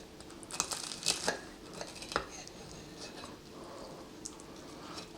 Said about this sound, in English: let's take one of these and let's get him all cut open